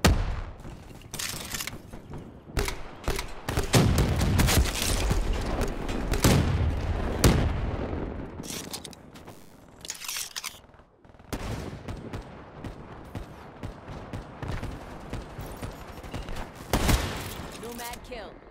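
Dense artillery and gunfire bursts rumble through a video game battle, loud thumping volleys and rattling shots coming in waves over nearly twenty seconds, with a player talking now and then.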